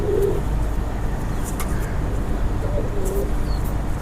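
A Heno pigeon coos in short, low, throaty bursts close by, heard over a constant rumbling background hum.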